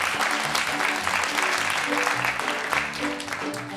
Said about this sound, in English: And the audience applauded as the maestro came back.